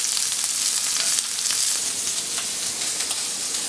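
Shrimp fry in a pan with a steady, loud sizzle and crackle, heard alone and close without a break.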